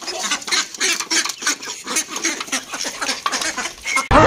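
Ducks kept alongside chickens quacking in a loose chorus, repeated nasal calls coming close and fairly loud in irregular bursts, ending with a brief sharp noise.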